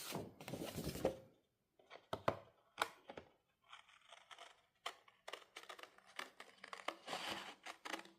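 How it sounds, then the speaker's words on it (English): Paper scissors cutting out a paper piece for a flat craft, close and quiet, with irregular bursts of snipping and crisp rustling of paper separated by short pauses. "So I'm just going to cut that out with some paper scissors."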